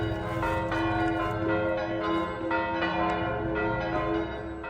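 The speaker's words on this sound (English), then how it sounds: "Can you hear those church bells? It's noon." Church bells ring at noon in Tuscany, Italy, a loud sustained peal with repeated strikes layered over one another and a gentle breeze in the background.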